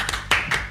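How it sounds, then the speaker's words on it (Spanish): A few people clap briefly, a short run of distinct hand claps close by, ending abruptly. "Un aplauso."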